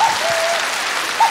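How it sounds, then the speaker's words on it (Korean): A studio audience at a Korean TV singing contest claps in dense, steady applause that lasts throughout, loud and close, with no voices standing out. "박수"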